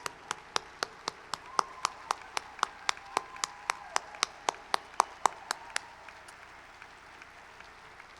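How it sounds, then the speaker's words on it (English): An awards-event audience gives a round of sparse, evenly spaced claps, about twenty sharp hand claps over six seconds before fading to quiet room tone. "would you join with me offering a round of applause to show her how much we appreciate all she's done"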